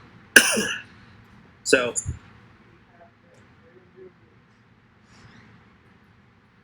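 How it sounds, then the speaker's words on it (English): A man coughs in two short, harsh fits, the second a cluster of rapid hacks, up close in a quiet room, with faint background noise afterward. "got a little bit of a coughing spell there."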